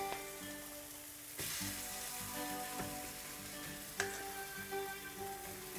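Jack mackerel tortilla mixture hits a hot pan and sizzles, a sudden burst of frying that settles into a steady crackling hiss, close and constant, with a few small clicks.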